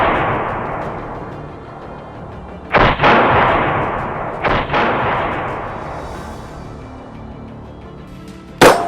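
.223 rifle shots fired at dingoes in the Australian outback: three sharp, loud cracks spaced several seconds apart, each followed by a long rolling echo over a steady wind-like roar.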